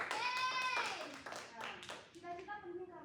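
Schoolchildren in a classroom clap their hands in a short, uneven burst of sharp claps, mixed with children's voices and sung or chanted tones.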